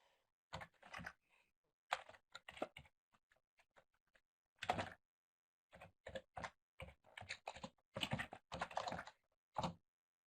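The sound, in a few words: typing on a computer keyboard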